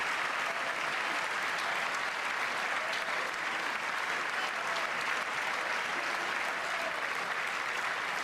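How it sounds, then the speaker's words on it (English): An audience applauds steadily, a continuous, even wash of many hands clapping that sounds slightly distant and stays at a uniform level throughout, with no voices on top. "Oh, so this clip is them applauding?"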